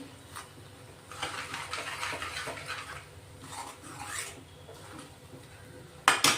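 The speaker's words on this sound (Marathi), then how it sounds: "आता तेल सुटेपर्यंत हा मसाला आपण परतून घेणार आहे" Masala being stirred and fried in oil in a pan for a Marathi rassa vegetable curry, giving intermittent scraping and sizzling swells at moderate level, ending in a sharp metallic clatter.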